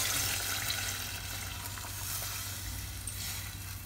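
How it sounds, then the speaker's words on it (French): Dolma filling for a fish dolma simmers in a pan, giving a steady, soft sizzle and bubbling hiss that stays even and close throughout, with no voices. "Vous laissez mijoter un peu"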